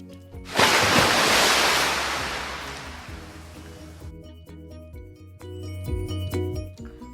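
A face dips into a bowl of water with a sudden loud splash and rush of sloshing water that fades over a few seconds, followed by quieter drips and small clinks, no voices.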